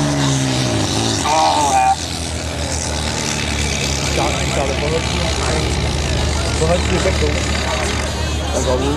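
A Volvo 650 tractor in a tractor-pulling contest at Nr Broby roars with a loud, steady engine drone held throughout, while a commentator talks over it and a brief word is spoken.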